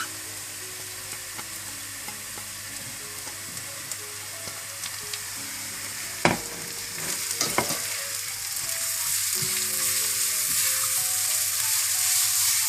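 Capsicum strips sizzle steadily in hot oil while frying for vegetarian Hakka noodles, with a few sharp stirring knocks midway and the sizzle growing louder and denser toward the end.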